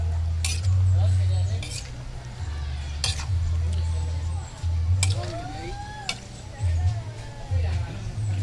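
Food is stirred in a cooking pot, with scraping and clinking of a spoon against the metal mixed under continuous conversational talk.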